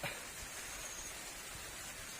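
Steady rain falling over open rice fields, hissing softly and evenly, a dense wash of drops heard at a distance with no voices.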